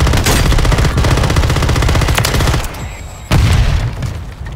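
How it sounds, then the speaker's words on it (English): Mortar strike explosions and gunfire in a military video game: dense, loud rapid firing with heavy booming impacts fills the scene, dipping briefly before another blast bursts back in. "Friendly mortar strike on the bay. I just threw a mortar on that side."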